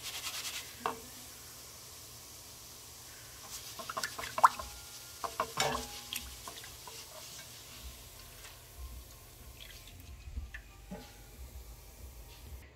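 Pressed rice deep-fries in hot oil for a South Indian mixture snack, a soft steady sizzle and hiss with occasional scraping stirs and clinks of a spoon, quiet throughout.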